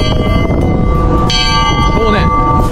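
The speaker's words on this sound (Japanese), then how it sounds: "この幸せの鐘、まあ、つまり僕らでいうゴングを鳴らして" A happiness bell rung at a date spot, its sustained metallic tone ringing on with fresh strikes partway through, loud and close against a noisy background, with brief voices nearby.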